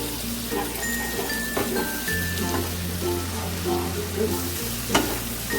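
A paste of ground mustard and poppy seeds with salt sizzles and crackles in a hot pan as it is stirred, a close, steady frying hiss with a low hum underneath.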